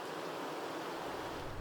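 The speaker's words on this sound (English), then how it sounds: "This could be wind" Broad, steady wind ambience rushes evenly through the whole short stretch, a soft wash of noise with no voices or distinct events.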